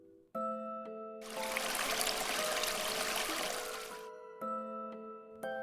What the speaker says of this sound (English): It sounds like water flowing from somewhere.